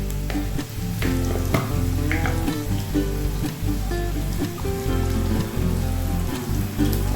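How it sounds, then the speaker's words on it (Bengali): Chopped green chillies and onion frying in oil with turmeric, a loud, close, continuous sizzle with stirring, rain-like crackle throughout. "ভালো করে এটা ভাজবো। দিয়ে দিচ্ছি হলুদ"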